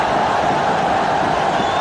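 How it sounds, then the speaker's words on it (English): Stadium crowd roaring in a sustained, dense wall of noise right after a big wicket falls in a Pakistan versus India cricket match, steady and loud throughout. "And the crowd is alight."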